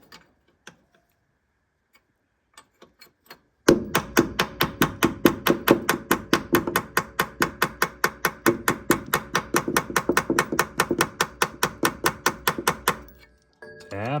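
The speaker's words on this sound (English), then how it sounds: "Just tap it in. Tap, tap, tap." A hammer taps a transmission seal into a TH350 automatic transmission in a garage, starting with a few scattered taps and then a long, steady run of rapid, evenly spaced metallic blows, close and fairly loud, with no talking.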